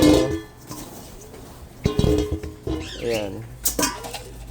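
Pigeons in a loft during winter feeding, with soft coos, rustling and brief wing flutters close by, mixed with intermittent talking.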